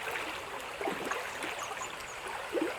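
River water flows steadily in a soft, continuous rushing wash with occasional small gurgles and splashes, faint and fairly distant, with no voices.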